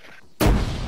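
One grenade explosion in ArmA 3 combat, a sudden loud, close blast with a heavy low boom and a ringing tail after near silence.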